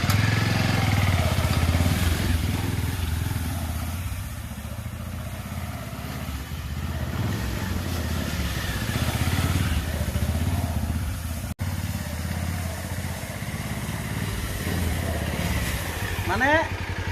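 A motorcycle engine runs steadily throughout, pressed into service in place of a tractor in a farm field, a constant loud drone with voices talking over it.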